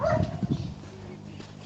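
A dog lets out a few quick, close barks or yips in the first half second. A quieter stretch of low background noise follows.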